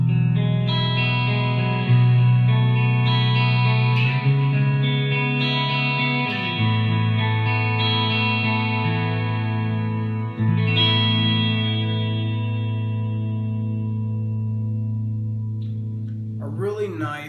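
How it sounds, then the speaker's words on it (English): Electric guitar played through a Line 6 HD500X with two delay effects stacked, sustained chords ringing with warm, modulated repeats and a long decaying tail, fairly loud and alone without talk. "So I usually use that together with the previous delay, and that creates a tone like"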